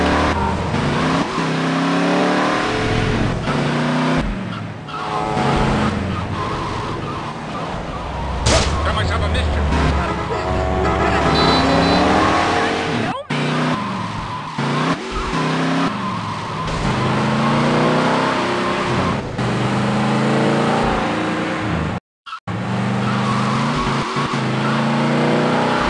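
Car driving through Liberty City in the video game GTA: Liberty City Stories, a steady engine drone with revving and tire noise running continuously under game dialogue and music, broken by a brief dropout near the end.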